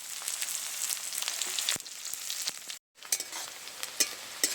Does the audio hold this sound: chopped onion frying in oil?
yes